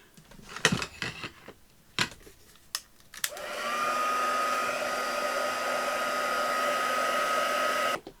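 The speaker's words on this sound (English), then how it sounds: "Now, I'm just going to dry those off" A hair dryer blows on freshly painted journaling cards, switching on after a few sharp handling knocks and running as a steady, close whir for several seconds before cutting off.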